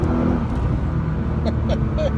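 A Nissan GT-R accelerating out of a corner, a steady loud engine and road roar heard from inside, with brief chirping sounds near the end.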